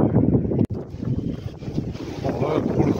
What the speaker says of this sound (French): Beaucoup de vent, par contre.